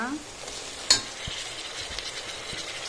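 Tomatoes fry with onions in a pan for a Goan mushroom curry, a low steady sizzle under a sharp clink of a spoon and a few soft scrapes of stirring, with a brief voice at the start.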